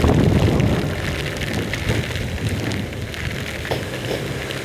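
Storm with heavy rain and strong wind, a dense steady hiss of rain with broad rushing gusts, loud and close, louder at first then settling, with no talk.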